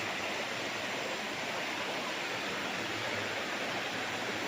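A clear river in Liliw, Laguna flows steadily with a continuous, even broadband rush of water, close and unbroken, with no voices.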